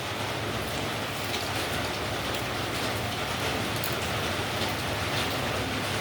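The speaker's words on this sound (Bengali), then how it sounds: "আনলিমিটেড বৃষ্টি হচ্ছে বলো।" Heavy monsoon rain pours down in a dense, continuous roar of drops on surfaces, steady and loud throughout with no voices.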